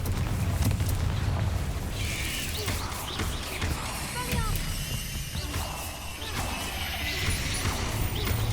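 Confringo fire-blast spells explode in Hogwarts Legacy during a spider-nest fight, dense crashing bursts layered over a constant low rumble and busy game effects with no clear pauses across the span.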